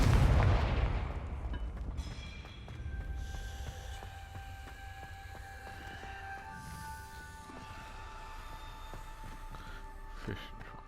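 Confringo fire spell blasts in the Hogwarts Legacy video game: a heavy boom at the start fading into rumble, a second softer thud, then ringing game tones and a small late pop, no talking.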